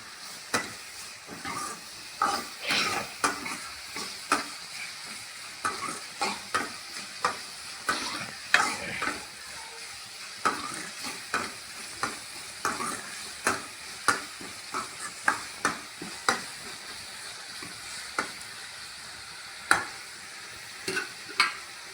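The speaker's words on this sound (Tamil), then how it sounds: "3 வெங்காயம் சின்ன சின்னதாக பொடியை கட் பண்ணி சேர்த்து அது ஓரளவுக்கு வதங்கின பிறகு அதேமாரி ஒரு 3 தக்காளி சேர்த்துக்கலாம்" Three finely chopped onions and three tomatoes fry in a pan for a village-style radish kara kuzhambu. A steady sizzle runs underneath as a spoon stirs and scrapes again and again at an uneven rhythm.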